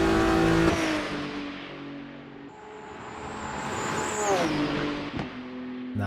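GT race car engine heard on board through Eau Rouge at Spa-Francorchamps in a GT World Challenge round, a loud sustained howl that shifts pitch through the corner, rising and dropping with gear changes and throttle.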